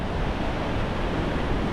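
Strong wind roars across an Australian beach during a morning fishing session, a loud steady broadband rush with surf blended in, filling the whole stretch without a break.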